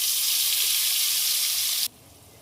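Mustard, poppy seed and coconut paste hits hot oil tempered with nigella seeds, giving a loud, steady, close sizzle that stops abruptly near the end, no talking.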